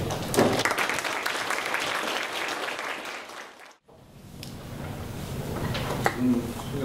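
A lecture-hall audience claps to welcome a guest speaker to a talk. The sustained, fairly soft applause breaks off briefly midway, then swells again into a second round of clapping.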